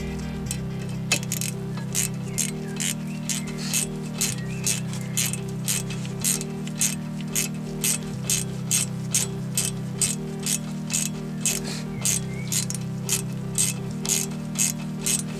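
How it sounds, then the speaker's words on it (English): Rapid, even clicking of a ratchet with a 7mm Allen key tightening brake caliper bolts during a brake rotor and pad replacement, close and crisp, in steady runs over a low repeating machine-like hum, with no talking. "So now you're just tightening these bolts back up there"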